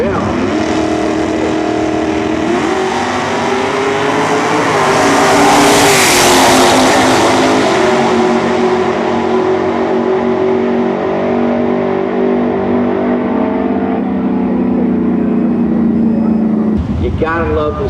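A 1970 Chevelle drag race car roars down the strip at a March Meet drag race, loud engine pitch sweeping upward through the gears as it passes close, then fading, with an announcer talking over it.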